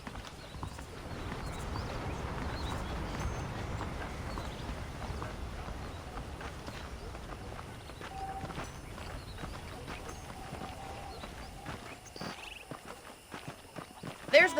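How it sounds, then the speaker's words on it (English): Horse hooves clip-clop steadily at a walking pace in the Western video game Red Dead Redemption, fairly close and moderately loud, with a voice talking over them. "The horses are saddled up over here."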